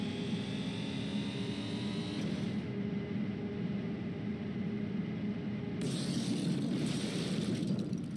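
A bus crashes and slides down a mountain in BeamNG.drive, heard as a loud, continuous roaring rush of noise with a heavy low rumble, briefly dulled in the middle before swelling again near the end.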